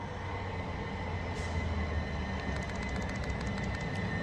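Southern passenger train heading toward Milton Keynes, a steady rumble of rolling wheels and carriages with faint high rail squeals and clicks later on, heard from nearby.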